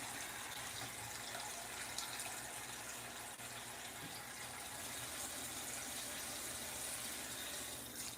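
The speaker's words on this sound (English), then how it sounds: "take these gloves off and wash my hands" Tap water runs steadily from a faucet into a kitchen sink during hand washing, a constant soft gush that holds at an even level throughout with no talking.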